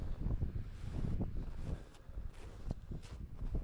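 Strong wind buffeting a microphone on a mountain ridge in the Tatras, with gusty low rumbles that swell and ease and faint rustling and footstep-like crunches close by.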